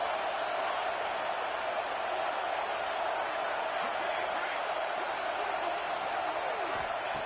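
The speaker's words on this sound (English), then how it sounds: "And here comes the noise. This crowd is trying to inspire this defense to make a big red zone stop." A football stadium crowd in a South Carolina game roars for a red zone defensive stop, a loud, sustained wall of cheering that holds steady throughout.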